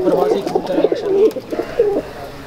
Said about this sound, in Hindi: बड़े प्रवासी कबूतर है